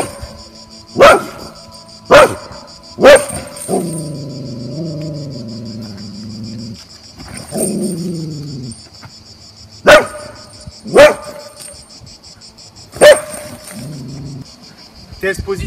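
A dog barks in sharp, loud single barks during an aggression test with other dogs, in spaced pairs and threes, while someone talks between them over a steady high insect-like drone.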